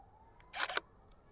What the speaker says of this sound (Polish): Teraz pewnie Państwo słyszeliście dźwięk, jaki wydaje migawka i kłapnięcie lustra.